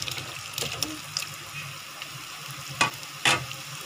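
Green chilies and garlic go into hot oil, giving a soft background sizzle with a few sharp crackling bursts near the end.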